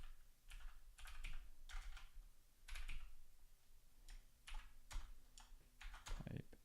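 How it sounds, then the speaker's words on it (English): Typing on a computer keyboard while entering a password-cracking command in Ubuntu, a quiet run of quick irregular key clicks in short bursts, close to the microphone, with no talking. "I'll try typing it one more time."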